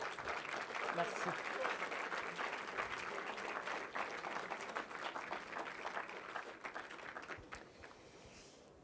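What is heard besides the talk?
applause for the SNCF and Ground Control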